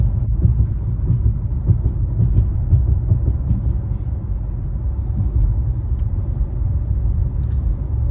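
Morning road traffic on a city avenue rolls by as a loud, continuous low rumble of passing vehicles, with steady engine and tire noise and no talking.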